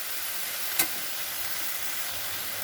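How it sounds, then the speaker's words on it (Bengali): Carrots and onions fry in a pan with garlic, green chilli and curry leaves, giving a steady close sizzle with one brief louder crackle near the start. "আর গাজরটা দিয়ে দু মিনিট করেছি আর পেঁয়াজটা বললাম না চার মিনিট যতক্ষণ না নরম হয়"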